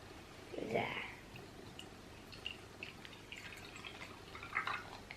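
Water is dripped and squirted into a small container from a home chemistry kit, a brief close liquid splash followed by soft faint drips and handling sounds while someone murmurs quietly.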